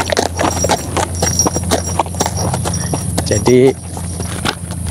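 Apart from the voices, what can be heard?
horse hooves clip-clopping, tame village horse walking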